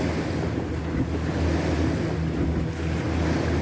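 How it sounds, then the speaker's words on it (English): Wake waves from the passing ship Jessica B Majuro slapping against a small boat on the St. Lawrence River near Maitland, a continuous rushing wash with a low engine drone and heavy wind buffeting the microphone. "The waves are farther apart, so they're like swells, which our little boat can handle better."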